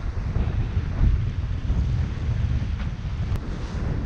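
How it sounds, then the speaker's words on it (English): Strong, gusty wind buffets the microphone aboard a Hallberg-Rassy 54 sailing yacht under main and genoa in about 20 knots between St. Martin and Anguilla, a loud continuous low roar with water noise beneath and no talk. "Very gusty. 20 knots of wind."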